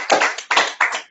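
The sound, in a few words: audience applause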